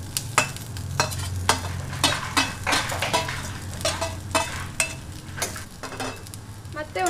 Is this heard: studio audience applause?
no